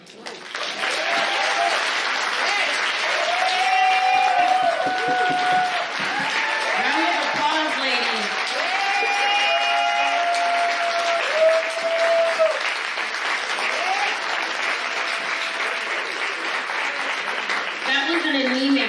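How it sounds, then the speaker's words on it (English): Sustained loud applause from a large crowd at a brunch keynote speech, steady clapping throughout, with a voice speaking and cheering over it. "Round of applause."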